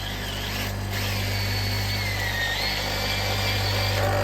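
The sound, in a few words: drilling a hole in a woodturning sharpening jig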